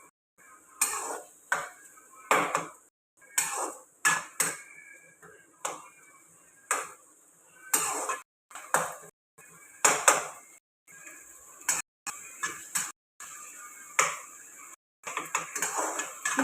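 A spoon scrapes and clinks against a bowl while mixing Andhra-style brinjal chutney, with bursts of metallic clatter and short pauses between strokes, close and fairly quiet.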